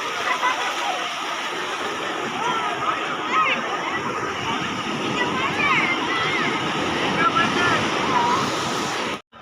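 Sea waves wash continuously onto Puri beach, a steady broadband roar of surf with some wind buffeting the microphone, faint voices audible underneath, then cutting off abruptly at the end.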